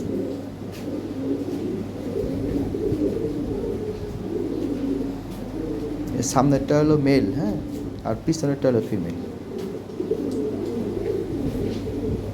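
A healthy breeding pair of European Lahori Sirazi pigeons coos in a low, continuous murmur beneath someone talking close by.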